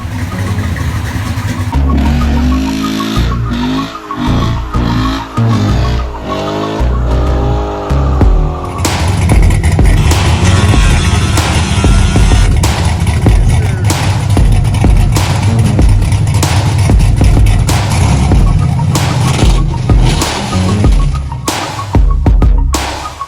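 A 2003 Chevrolet Silverado SS with a Black Widow exhaust revs loudly and close by outside a garage, its engine rising and falling in repeated throttle blips before settling into a sustained rumble.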